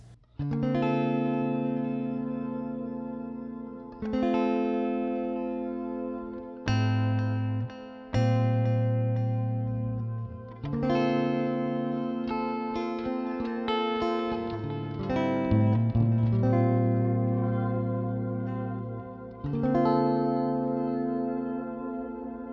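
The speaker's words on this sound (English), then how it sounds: "what a lot of people are getting into now is this kind of shimmer effect" Sustained electric guitar chords ring out with a shimmering, octave-up reverb wash that swells and lingers, played alone in several phrases.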